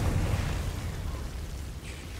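Confringo blasting spell from Hogwarts Legacy bursting open, a single loud, close boom with a rumbling low-end tail that decays gradually over a couple of seconds.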